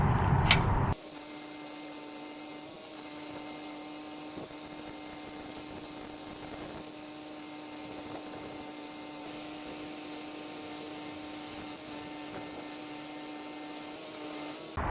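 Welding a bracket onto a galvanized boat trailer: a steady crackling, buzzing weld runs continuously for most of the clip after a brief loud burst at the start, close and even in level, with no talking.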